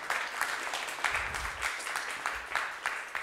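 Light, fairly faint applause from a small audience at an indoor discussion, a few people clapping in an uneven patter for a few seconds.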